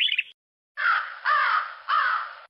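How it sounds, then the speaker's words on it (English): A crow caws three times in a row, harsh, drawn-out calls spaced evenly and heard clearly, preceded by a brief high chirp from another bird. "a crow,"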